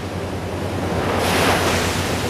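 Ocean waves break and wash up on Cardiff Beach in Southern California on a summer night, a steady broadband roar that swells louder midway as a wave surges in, with wind buffeting the microphone and no voices.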